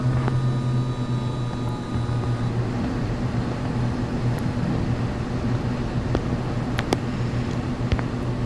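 A TBM-930 turboprop in the Infinite Flight game climbs just after liftoff, giving a steady, loud engine drone with a low hum that holds constant, plus a few faint ticks and clicks.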